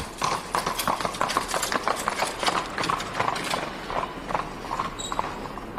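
Lipizzaner horse hooves clip-clopping on a hard surface near Lipica, Slovenia, a steady rapid series of clacks with a faint mechanical rattle mixed in and no talking.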